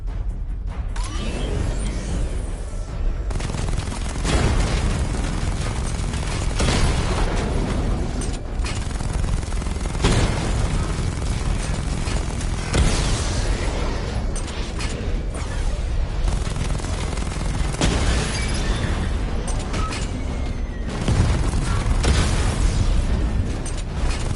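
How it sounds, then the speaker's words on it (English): Missile barrage explosions in the Batman: Arkham Knight video game, a dense run of loud booming blasts and rumbling bursts repeating every few seconds over a continuous mechanical roar, with no talking. "Charge up missile barrage to level 2 and destroy 4 active targets to complete diagnostic test"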